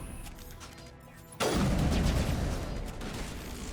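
A sudden loud blast erupts in the video game Mass Effect Legendary Edition, a single sharp gunshot-like crack followed by a lingering rumbling roar that stays loud to the end.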